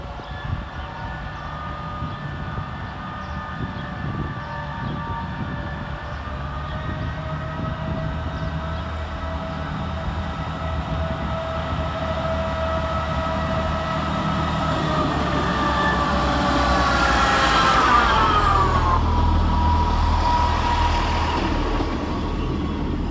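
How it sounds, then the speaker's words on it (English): A Transport for Wales Class 158 diesel train, unit 158837, pulls out of Chester railway station, its engine drone and rail noise building steadily and growing louder as it departs, with a brief rising whine near the end. "158837 departs with the 11:36 Transport for Wales service to Birmingham International."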